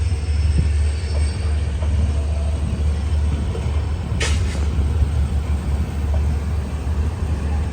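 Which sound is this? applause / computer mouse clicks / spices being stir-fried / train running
train running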